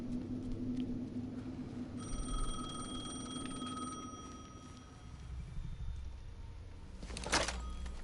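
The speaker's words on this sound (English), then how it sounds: "the phone again." A telephone rings in the video game Alan Wake 2, a faint bell-like tone that sounds around two seconds in and holds over low ambient rumble, followed by a brief louder clatter near the end.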